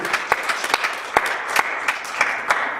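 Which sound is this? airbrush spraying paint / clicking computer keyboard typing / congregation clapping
congregation clapping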